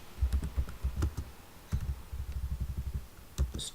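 Rapid keystrokes on a computer keyboard as an SQL query is typed, close and clear, coming in quick bursts with short pauses between them.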